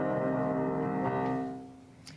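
Sustained piano chords for a silent-movie villain scene, a dark, resonant harmony ringing and slowly fading, with a soft high note near the end.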